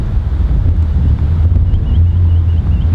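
A strong headwind buffets the microphone on a golf course, a loud continuous low roar and rumble that fills the whole stretch with no voices.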